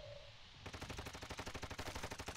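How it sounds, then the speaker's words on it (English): Rapid automatic gunfire in Warzone 2.0 starts abruptly after a brief quiet moment and continues as a fast, even rattle of close, loud shots. "Taking effective fire."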